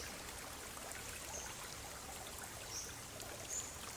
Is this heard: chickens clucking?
no